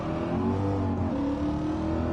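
A Ford Fiesta ST with a Stage 1 tune, Scorpion exhaust and GPF delete revs steadily, a droning engine note held close and loud throughout with no talking.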